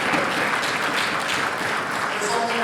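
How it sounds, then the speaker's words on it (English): A room full of people applauds in a thick, continuous wash of clapping at a motivational talk, loud and close, with voices mixed in beneath it. "Round of applause for being honest."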